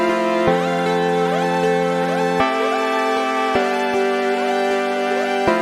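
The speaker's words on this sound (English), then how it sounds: "this synth from Electra X that's really kind of weird and like screechy in a synthy way" Electra X synth plays a sequence of bright, buzzy chords, changing roughly every second. Each chord carries gliding, screechy overtones, and the part plays alone and clear.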